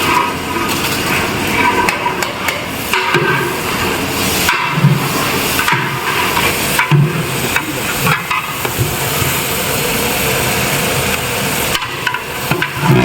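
A large pot of biryani masala for a 10 kg batch, with tomatoes just added after ginger-garlic paste, is scraped and stirred with a ladle. The sound is loud and steady, with clanking knocks and a frying hiss running underneath throughout.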